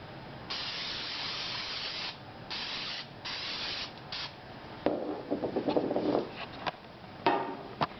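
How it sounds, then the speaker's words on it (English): Cooking spray misted into a loaf pan for banana bread, several short hissing bursts of varying length in close succession, followed by light clattering and handling noises of the pan. "you're going to want to grease it either with cooking spray or you can use butter"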